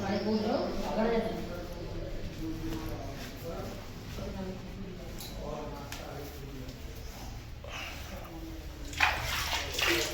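Water filling at an old stepwell by a Khodiyar Mata temple, a faint steady splash and trickle running under voices talking nearby, with a brief sharper splash near the end.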